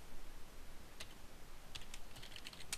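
Faint, sparse clicks of a computer keyboard as someone types a short Python command, a handful of light keystrokes against a quiet background hiss with no talking.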